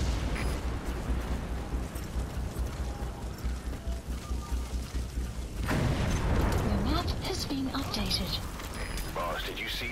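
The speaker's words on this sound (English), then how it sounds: "Boss, did you see that explosion?" In the video game Metal Gear Solid V, a vehicle crashes and explodes, with a rumbling blast and burst of debris partway through over continuous low game ambience and effects.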